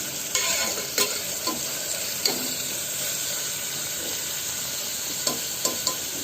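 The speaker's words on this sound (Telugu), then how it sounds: "నూనె వేడయ్యాక ఉల్లిపాయ ముక్కలు వేసుకుని బాగా మగ్గనివ్వాలండి" Chopped onions sizzle steadily in hot oil in a home kitchen while a curry is being made, with occasional sharp clinks of stirring over the continuous frying hiss; no one speaks.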